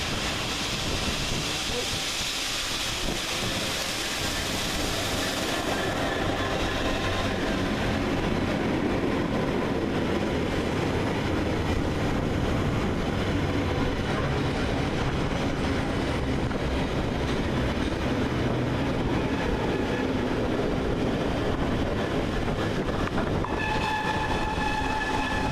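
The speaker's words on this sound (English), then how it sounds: "700-103 in the background depart with the 1413 Govia Thameslink service from Bedford to Brighton" A Govia Thameslink Class 700 electric train pulls out of Luton station, its broad rumble and wheel noise steady and fairly close throughout, with a brief high tonal whine near the end and no voices.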